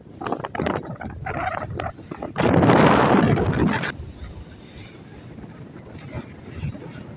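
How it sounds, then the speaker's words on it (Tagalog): Strong wind buffets the microphone on a boat trip, a loud rushing gust in the middle with lighter wind and boat rumble around it, and someone talking at the start. "Medyo malakas ang hangin."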